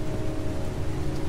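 Steady rain in the PS4 game Heavy Rain, a dense, even hiss of falling water with a low rumble beneath, constant throughout with no voices.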